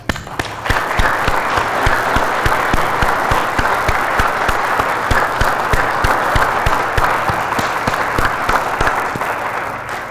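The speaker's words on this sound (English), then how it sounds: "Let's get a round of applause." A crowd in Times Square, New York, applauds at the Nasdaq closing bell ceremony, loud dense clapping that swells quickly and holds steady for about nine seconds.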